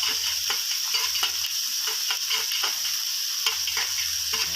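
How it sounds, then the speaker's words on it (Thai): Crushed or chopped garlic stir-fries in a little vegetable oil with a constant bright sizzle. A spatula scrapes and taps against the pan in a quick, regular rhythm. "แล้วก็ใส่กระเทียมนะครับ กระเทียมที่เราโขกหรือว่าสับเมื่อสักครู่นะครับ ผม ใส่ลงไปผัดเลยนะครับ"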